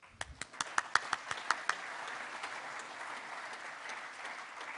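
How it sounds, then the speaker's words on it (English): A few distinct claps open, then a steady wash of polite applause from the audience at a Rotary club meeting, moderately distant and even, with no talking. "Let's give him a round of applause."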